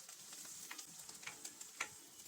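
Chopped onions and green chillies fry in a pan for a tomato fish curry, giving a soft, steady crackle with a few sharper pops and spatula scrapes, quiet and close with no voices.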